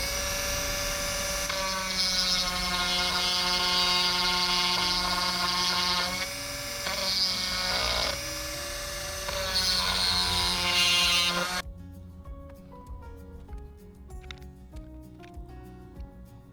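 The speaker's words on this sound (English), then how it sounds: "The other way is to use a cutter like this, and I think this might work better." A high-pitched rotary cutter whines steadily while cutting old plumbing hose on a yacht, loud and close with brief dips in pitch as it bites, then stops abruptly, leaving faint handling clatter.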